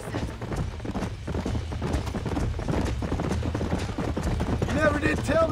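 Rhythmic clip-clopping hooves of horses moving at pace in the video game Red Dead Redemption, with voices talking over them.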